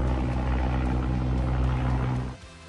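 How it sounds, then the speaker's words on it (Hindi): A helicopter airlifts a broken-down helicopter from a high-altitude helipad at around 11,500 feet, its deep rotor and engine drone loud and steady before fading abruptly. "एक हेलीकॉप्टर से दूसरा हेलीकॉप्टर उठाया गया है"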